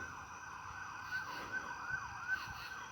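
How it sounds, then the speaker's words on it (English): An ambulance siren wails in a repeating rising-and-falling pattern, steady and moderately distant, with faint traffic rumble underneath. "Is it a cop car or an ambulance?"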